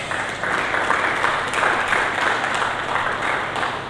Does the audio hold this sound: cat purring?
no